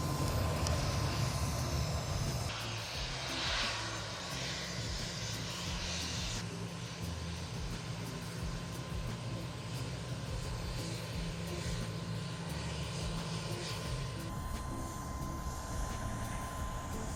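Aircraft engine running at an airport where people clean their planes, a loud steady roar with a sustained whine, louder briefly at the start, no talking.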